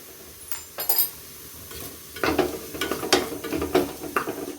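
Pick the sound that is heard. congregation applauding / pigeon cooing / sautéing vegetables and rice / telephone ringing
sautéing vegetables and rice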